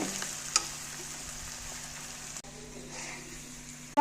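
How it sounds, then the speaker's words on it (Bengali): Shredded cabbage fries in a pan with a soft, even sizzle, a single clink of a spoon early on, and steady stirring noise throughout. "এখানে একটু ভাজা করে"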